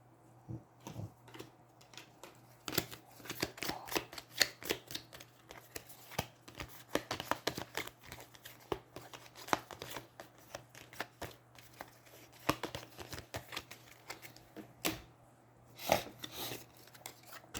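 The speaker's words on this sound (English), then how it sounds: "But you get to shuffle a card back into the deck." Playing cards riffle and slide as they are shuffled back into a deck during a tabletop card game, giving a dense run of quick papery snaps and rustles, close and fairly soft, with no talking.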